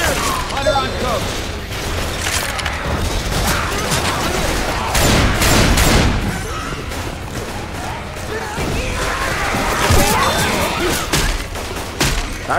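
Dense, loud gunfire rattles almost without pause through a chaotic firefight, sharp cracks layered over booming impacts and mechanical clatter, with shouted voices cutting through.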